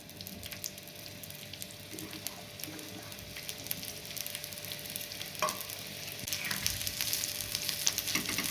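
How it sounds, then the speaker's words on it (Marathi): Onions frying in a little hot oil in a pan, a steady soft sizzle with scattered crackles that grows fuller toward the end, with no talking over it. "तव्यावरती आपण थोडंसं तेल घ्यायचं आहे तेल थोडं गरम हो झालं की यामध्ये आपण कांदे परतून घ्यायचे"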